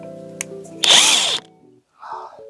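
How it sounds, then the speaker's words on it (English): An impact drill gives a short, loud whirring burst as it works on a car's wheel nuts, with faint clicks before it and a softer mechanical sound after. "Gotta take this off with this impact drill."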